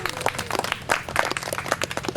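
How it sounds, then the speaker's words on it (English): Light, scattered clapping from a small audience at a beach wedding in Negril, Jamaica, thin and irregular hand claps over a steady background hum, with a brief bit of voice mixed in. "Boy, that's a golf clap."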